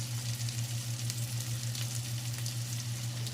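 A salmon steak sizzles steadily in a hot pan as it is flipped, a loud, close, continuous crackling fry with a low hum beneath and no talking.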